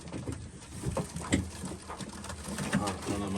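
Soft pigeon cooing runs through a busy, close background of rustling and shuffling, with a few louder thumps and no clear talk.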